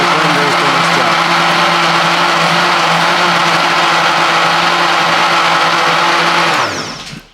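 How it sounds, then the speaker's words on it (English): A blender roars loudly and continuously as it chops ice, its motor tone holding steady before winding down abruptly at the end. "you can hear those pieces of ice being chopped up, and when the sound changes, you can tell that then the blender is doing its job."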